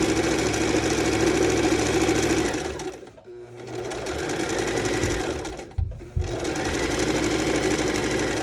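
A sewing machine stitches a 1/4 inch seam on fabric, whirring steadily up close, then pausing briefly twice for the pivot before starting again.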